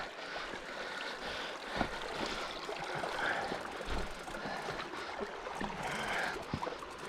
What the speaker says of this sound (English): Well, the creek is getting deep.